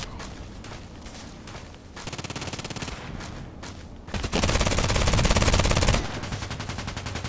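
Gunfire from an H&K UMP45 submachine gun in the shooter game Contract Wars: a steady rattle of rapid shots builds into a louder, dense sustained burst before easing off, heard close with no voices.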